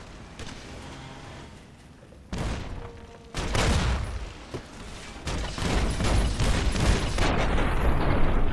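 Securitron robots fire missile launchers during a battle in Fallout: New Vegas, a string of loud booming blasts and rumbling explosions that grow denser and more continuous toward the end.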